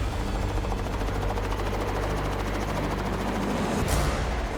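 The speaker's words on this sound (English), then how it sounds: "Now, the helicopter needs to come back for the co-pilot." A helicopter flies close by over deep water during a pike fishing trip. Its rotor chop and engine roar are loud and continuous throughout, with a brief swell near the end and no speech.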